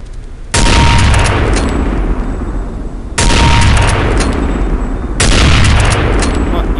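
Three loud, close gunshots from a Counter-Strike training course, each one a sharp crack followed by a lingering echoing tail, spaced a couple of seconds apart.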